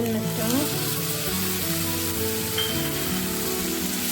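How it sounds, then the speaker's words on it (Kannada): Green chillies, garlic and tomato frying in a pan for spinach curry, a loud steady sizzle throughout with faint stirring, no talk. "ಇಷ್ಟನ್ನು ಹಾಕ್ಕೊಂಡು ಚೆನ್ನಾಗಿ ಫ್ರೈ ಮಾಡ್ಕೊಳ್ಬೇಕು"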